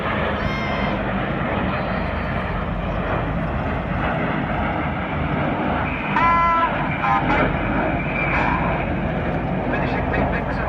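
Red Arrows jets flying the Big Vixen roll at the Sunderland Air Show, a loud continuous roar of jet engines filling the whole stretch, with a commentator's voice over the top.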